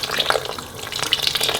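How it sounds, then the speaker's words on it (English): Cornflour slurry is poured into a pot of chicken vegetable soup while being stirred, giving close, splashy liquid sloshing with stirring sounds and no talk. "So just pour that gently in there and keep stirring."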